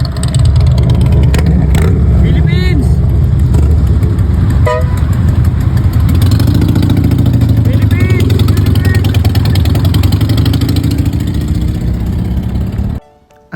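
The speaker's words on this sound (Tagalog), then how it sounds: "Akala ko nag-teleport na ako sa Pilipinas kasi nakakita ko ng tricycle." A Philippine-style motorcycle tricycle driving on a California street: a close, buzzing small engine that revs and fades, short horn toots, and people talking over the traffic noise until it cuts off at the end.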